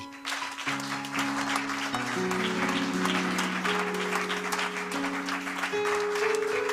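A church congregation at a Sunday service applauds and cheers for Jesus, with dense, steady clapping over sustained keyboard chords that keeps going for several seconds.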